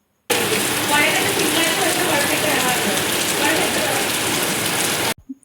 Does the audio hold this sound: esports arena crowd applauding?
no